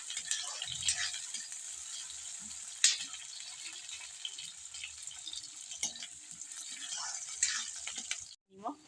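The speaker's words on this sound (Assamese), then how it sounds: "অলপ সময় লৰাই থাকিম।" Pasta ingredients frying in hot oil and being stirred, giving a faint continuous sizzle with occasional soft scrapes and taps from the spoon. Brief talk is heard in the background.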